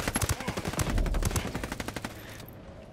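Rapid automatic gunfire in Ghost Recon Wildlands hammers out in quick repeated bursts, loud and close, thinning out before a few final shots.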